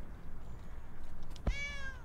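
One clear meow from a cat in the game Please, Touch the Artwork 2, arriving near the end after a quiet stretch, a crisp tonal cry with a slight falling tail over steady low background noise.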